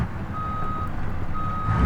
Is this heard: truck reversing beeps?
yes